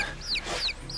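A mascot chicken clucks nearby, a few short rising calls scattered over a second, fairly loud with no talk.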